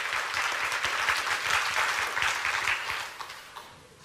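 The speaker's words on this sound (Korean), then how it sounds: "이야, 박수 한번 주세요." Children's congregation at a church worship session applauding, sustained crowd clapping that stays full and even for a few seconds before fading out.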